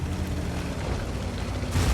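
A tank shell strikes the player's tank with a damaged gun in World of Tanks, a dense rumbling boom that swells louder near the end of the brief burst.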